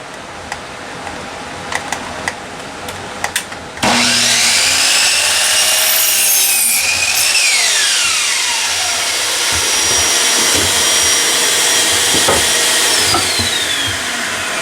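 Thin wooden boards for a gate are cut on a power saw, which spins up suddenly after a few light clicks and then whines loudly and continuously, its pitch dipping slightly as the blade bites the wood.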